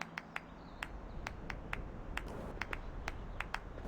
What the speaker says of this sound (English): These claps are very, very pathetic.